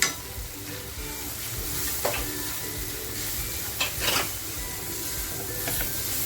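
Onion, garlic and homemade masala frying and being stirred in a pan for dhaba-style chicken tikka masala: a steady close sizzle broken by scraping spatula strokes and clinks against the pan.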